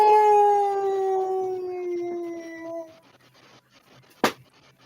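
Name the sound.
wolf howl in the woods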